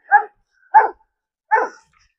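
A dog barks three times in evenly spaced single woofs, close and clear against silence.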